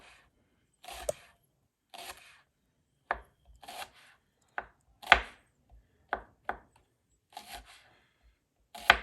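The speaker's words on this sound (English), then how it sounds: "we start slicing them real thin, as thin as you can" A knife slices onions thinly on a cutting board for tabouleh, giving about a dozen crisp, separate cuts in an uneven rhythm, close and clear with quiet gaps between them and no voices.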